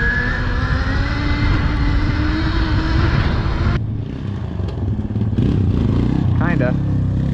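An electric bike doing a burnout near a drift quad, giving a loud continuous whine and tire roar that cuts off partway through and is followed by quieter rustling.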